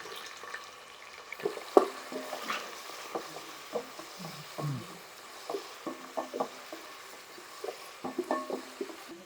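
Onions and green chillies frying in a pan for mixed vegetable kurma, a soft, low sizzle broken by scattered spatula scrapes and light taps spread across the whole stretch.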